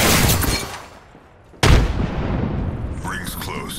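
A frag grenade goes off in Apex Legends as one sharp, loud blast, with a rumbling decay and gunfire just before it and a voice heard faintly afterward.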